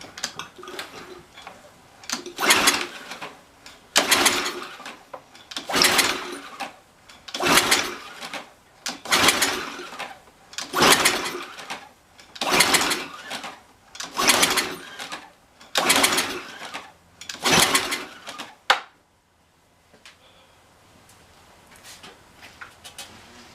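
A Briggs and Stratton small engine with a broken intake bolt is cranked repeatedly by pull starter, giving about ten rhythmic, loud whooshing pulls that puff without firing, then quiet.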